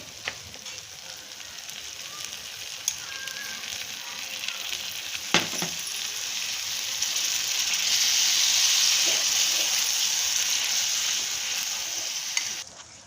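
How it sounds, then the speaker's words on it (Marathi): Two spoonfuls of water hit a hot pan, setting off a loud, steady sizzle and hiss that swells toward the middle and fades, with a couple of brief clinks. "हे ज्यात आपण खजूर वाटली होती ते भांडं फक्त मी धुवून 2 चमचे पाणी यात टाकतेय"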